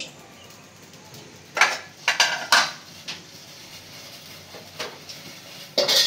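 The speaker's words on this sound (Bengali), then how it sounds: "কোরমাটা রান্না করার জন্য পাতিলটা বসাই দিলাম।" A metal cooking pot is set down on a stove for making egg korma, giving a few sharp clanks and clattering knocks against quiet kitchen background noise.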